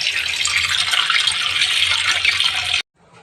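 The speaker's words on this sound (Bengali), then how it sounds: "চলো মাছটা ধুয়ে নিই। দেখো মাছটা ধুয়ে নেবো ভালো করে।" Water runs hard from a kitchen tap while fish is washed under it, a loud, steady gushing splash close by that stops abruptly near the end, with no voices over it.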